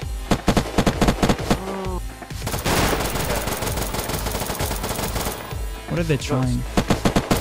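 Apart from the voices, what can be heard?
gunfire in the video game Unturned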